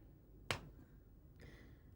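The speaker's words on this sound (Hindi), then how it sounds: "अब मैं चुटकी बजाऊंगा, तुम होश में आओगी" A single sharp finger snap cracks out cleanly and close, alone in a quiet indoor room during a hypnosis-style comedy scene, followed by a brief faint hiss a moment later.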